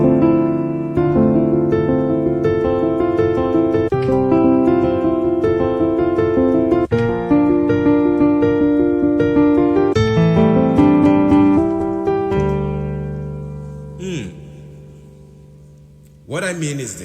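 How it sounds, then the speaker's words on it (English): Piano plays a rhythmic chordal intro pattern, repeated chords pulsing steadily and loudly for most of the passage before thinning out, with a brief different sound near the end. "Now, rhythmic pattern sounds something like this."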